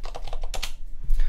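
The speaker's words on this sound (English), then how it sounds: "when you type update to your system, you're actually typing this" On a computer keyboard, someone types a Linux update command with a quick run of crisp, close keystrokes, a short pause, then a few more taps.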